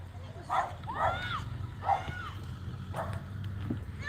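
A dog barks and yips outdoors at sunset, a few sharp calls spread across several seconds, moderately distant over a low background rumble.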